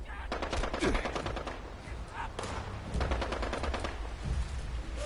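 Rapid automatic gunfire from weapons in the video game Fallout 76, bursts of shots repeating steadily over a dense backdrop of game ambience, fairly loud and continuous.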